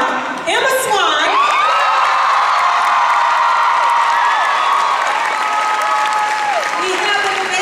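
A large crowd at the 2015 Once Upon A Time panel at San Diego Comic-Con applauds loudly and continuously, with cheers, whoops and high shouts rising through the clapping.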